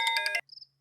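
A phone rings with a short, bright electronic trill that stops abruptly, followed by a faint high chirping tone, loud and close with nothing else around it.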